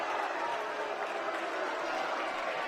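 Lehi fans at a 6A boys volleyball championship against Bingham make a loud, steady roar of disapproving crowd noise that fills the gym without a break.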